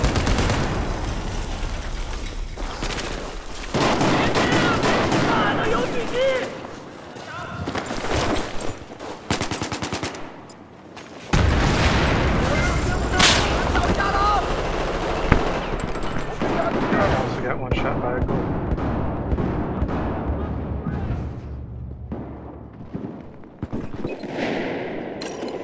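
Rapid automatic gunfire and bursts of shots in Battlefield 4 on Siege of Shanghai, loud and sustained with brief lulls, layered with game noise and a voice talking over it.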